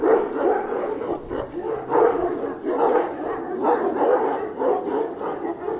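A dog barks repeatedly in a steady rhythm, about one bark per second, fairly close and loud, with no talking.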